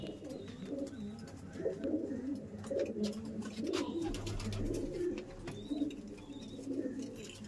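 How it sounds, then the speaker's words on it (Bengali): Many pigeons coo softly and continuously in a loft, overlapping murmurs close by with occasional rustles and flutters. "এই যে দেখুন সব পায়রা এখানে নিচে রয়েছে"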